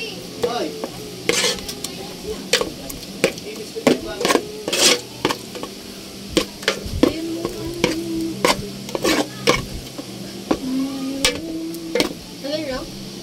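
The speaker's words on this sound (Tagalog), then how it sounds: "Haluin ko muna mga kananay" A spoon repeatedly clinks and scrapes in a bowl while quail egg batter for kwek-kwek is stirred, sharp irregular knocks over a soft background, with a voice speaking intermittently nearby.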